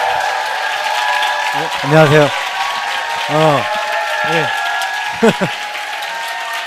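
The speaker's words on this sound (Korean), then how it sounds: "큰 함성 박수로 저희 2천만 장자 조규철 스폰서님 나오실 때 큰 함성 박수 부탁드리겠습니다." Steady applause and crowd noise fill a corporate anniversary event hall as a sponsor is welcomed, a continuous bed of clapping under several short spoken interjections from a nearby voice.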